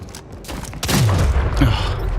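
A video game gunshot for a headshot kill: a sharp, loud report at about the midpoint followed by a booming low-frequency tail, with a second lighter impact shortly after, over a steady background of game noise.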